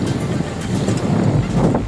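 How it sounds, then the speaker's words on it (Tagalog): Strong wind ahead of rain roars steadily into the microphone in Baseco, a low rumbling buffeting that swells louder toward the end. "medyo lumakas ang hangin kasi medyo paulan eh"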